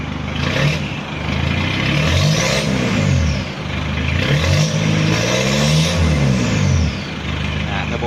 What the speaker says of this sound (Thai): ก็ฟังเสียงเครื่องนะครับ